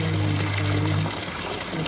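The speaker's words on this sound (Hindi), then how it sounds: "तो भाई पानी तो फूल आने लग गया" Tap water running into a bucket at a home, a steady hissing gush with a humming tone that cuts off partway, then lighter splashing continues.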